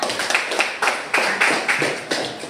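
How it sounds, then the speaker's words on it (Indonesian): A small group of students in a classroom claps briefly for a classmate, a short run of distinct close hand claps with a loose, uneven rhythm. "Baik, tepuk tangan untuk Naila."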